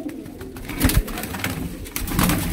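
Soft pigeon cooing outdoors, a low murmuring coo repeating faintly amid background noise and a brief knock.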